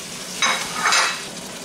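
Chicken with its juices poured into a hot pan, two bright bursts of sizzling one after another, close and loud, settling into a steady fry.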